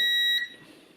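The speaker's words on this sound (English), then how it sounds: "The beep on the multimeter indicates that we have continuity in this position." A single steady electronic continuity beep from a multimeter testing motorcycle switch wiring, high-pitched and clear, lasting under half a second before cutting off into quiet.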